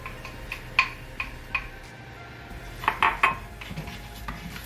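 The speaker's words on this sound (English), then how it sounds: "we're gonna add our rice to it" Dry rice is poured into a pot for an ox-tail dish, giving light ticks and clinks of grains and a spoon against the metal, close and irregular, with a small cluster of taps near the middle.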